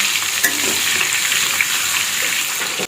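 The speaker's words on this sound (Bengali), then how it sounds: "আমি এখানে আলু ভাজছি মাংসের" Potatoes fry in hot oil for a mutton curry, giving a close, steady sizzle with a few stirring scrapes and crackles over a few seconds.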